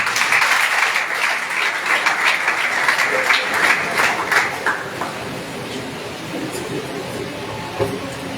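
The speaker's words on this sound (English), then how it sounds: "we should applaud him" A large audience at a postgraduate unveiling and flag-off ceremony applauds the executive chairman: steady, loud, dense clapping that fades after about five seconds into a murmuring crowd with a few scattered claps.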